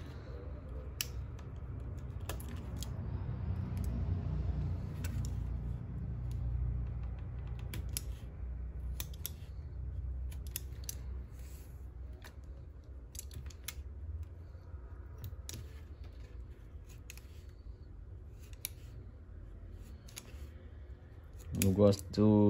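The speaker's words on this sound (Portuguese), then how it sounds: "vamos cortar o tento. Vamos fazer as pontinhas dele." Scissors snip a leather lace (tento) for a leather button keychain, giving quiet sporadic clicks and snips over a low room hum, with a louder rustle near the end.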